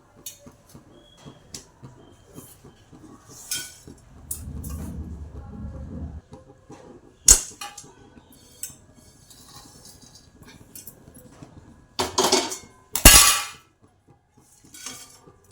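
Roasted coconut is poured out of a pan, with scattered metallic clanks, scrapes and knocks of utensil against pan, a stretch of rustling pour in the middle, and a few sharp louder bangs near the end.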